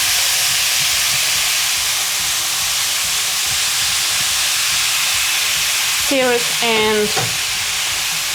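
Meat sears on a bed of onions in a pan, a loud, dense, continuous sizzle and hiss up close, with a brief spoken word near the end.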